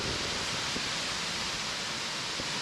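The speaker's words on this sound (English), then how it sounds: "Look how gorgeous this waterfall is." A Colorado waterfall roars as a steady, dense wash of falling water, loud and close, with no break or voices over it.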